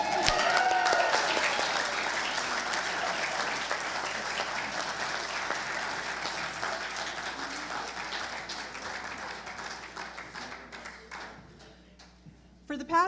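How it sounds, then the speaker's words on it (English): A congregation or gathering breaks into sustained, heartfelt applause: a dense wash of many hands clapping that holds strongly for several seconds, then slowly thins and fades to a few scattered claps near the end. "And the rest of us will give heartfelt applause."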